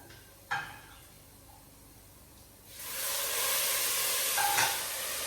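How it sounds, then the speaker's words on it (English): Warm stock ladled into a hot pan of mushroom risotto cooking on high heat, a quiet tap and then a sudden broad sizzling hiss that swells and holds, close by, without speech. "now it's time to ladle in a bit of our stock"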